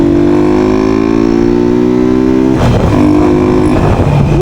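A customer's motorcycle engine revs hard and close during a test ride, its pitch climbing steadily and then dropping into a rougher, lower drone as the throttle eases.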